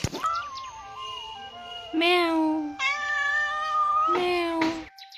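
A house cat meows repeatedly for freshly bought rohu and catla fish: four loud, drawn-out, close cries, some rising and some wavering, in quick succession.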